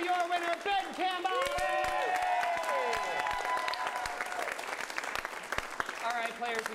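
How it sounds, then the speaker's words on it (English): Audience applause and scattered whoops fill the room at an improv comedy show, with voices calling out over the clapping throughout. "And one big round of applause to your winner, Ben Campbell."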